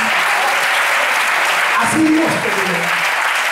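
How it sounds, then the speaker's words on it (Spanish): A Spanish-speaking church congregation claps loudly and steadily the whole time, while someone speaks briefly over the applause. "Le damos un aplauso."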